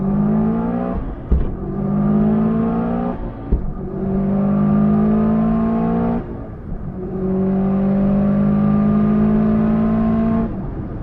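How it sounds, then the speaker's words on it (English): A race car in a roll racing run, heard from inside the cabin, accelerates hard with a loud, droning engine note that climbs steadily and drops sharply at each of several gear shifts. No voices. "We've got some in-car footage from Tom's car of our run."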